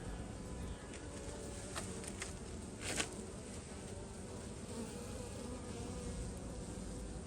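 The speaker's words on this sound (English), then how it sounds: "We are noticing the bees are moving." Honey bees move across comb frames in a newly installed package hive, giving a soft continuous hum with a few brief louder buzzes as individual bees pass close by.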